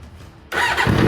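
A Triumph TT600 motorcycle with a swapped-in engine, replacing one that snapped a valve, cranks briefly and then catches, bursting into a loud, close running roar.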